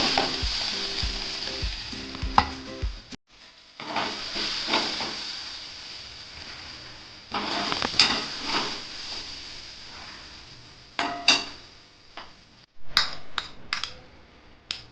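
Spices and garlic dry-roasting for Konkani goda masala in a pan, with a steady close sizzle and repeated scraping stirs, broken by brief pauses and a few sharper clatters.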